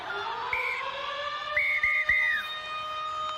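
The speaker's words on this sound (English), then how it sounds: "Here comes the siren." A loud end-of-match siren wails in short rising and falling blasts over a steady background hum at a women's rugby league stadium match.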